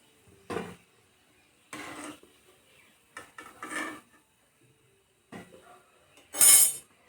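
Metal kitchen utensils clink and scrape against a pan and plate while frying oil is strained off during gulab jamun making, a handful of separate clatters with quiet gaps and a sharp ringing knock near the end.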